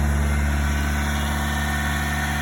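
A car engine runs at cold idle around 2,000 rpm, a steady loud hum with a deep, even rumble and no change in pace over the short stretch.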